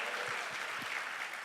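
A church congregation claps together in sustained, dense applause, steady and fairly loud throughout, with a few low thumps scattered beneath and no talk over it.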